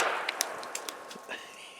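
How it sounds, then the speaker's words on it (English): A Zastava M56 semi-auto rifle firing its first shots, several sharp cracks spaced unevenly over a couple of seconds, heard from a distance with a faint ringing tail after each report. "Here is a clip of the first rounds fired. M56, first shots."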